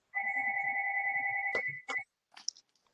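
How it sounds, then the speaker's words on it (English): A phone rings in the background of an online monthly meeting, playing a steady two-tone electronic ringtone for about one and a half seconds before breaking off, followed by a few brief clicks, no speech. "Somebody else has got a phone ringing in the back."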